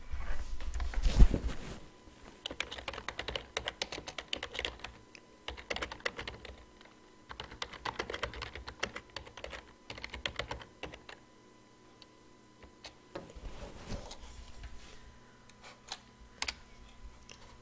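Bursts of typing on a computer keyboard, quick irregular key clicks in runs separated by short pauses, close and moderately loud with no talking.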